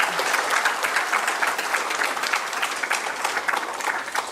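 A lecture-series audience applauds steadily and loudly throughout, dense even clapping from many hands with no talk over it.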